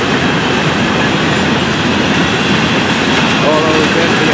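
An FEC freight train of empty hopper cars rolls past close by in a loud, steady roar of wheels and rattling cars, with faint metallic squeals mixed in.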